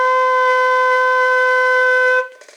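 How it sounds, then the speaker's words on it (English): Flute holding a single steady B natural, a clear, pure sustained tone lasting about two seconds, alone and close, then cut off cleanly. "This note is called B."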